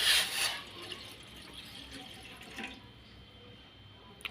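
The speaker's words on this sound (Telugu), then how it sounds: "స్టవ్ని లో ఫ్లేమ్లో పెట్టుకొని ఇప్పుడు మనం వాటర్ యాడ్ చేసుకుందాం." Water pours into a saucepan on a low-flame stove while masala black coffee is made, a short loud splash at the start easing into a softer steady trickle, then fading, with no talk.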